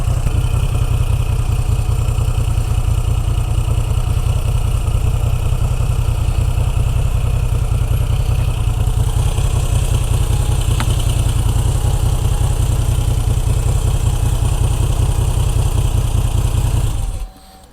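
A Moto Guzzi V9 Bobber motorcycle engine idling with a loud, steady low-pitched throb and rapid, even pulsing beat, heard close up and unbroken for about seventeen seconds before cutting off abruptly at the end.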